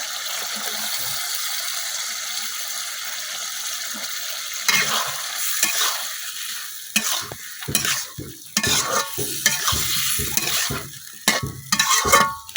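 Meat and boiled potatoes sizzle steadily in a pan while a spoon scrapes and stirs them in repeated close strokes, the scraping growing busier and more rhythmic toward the end.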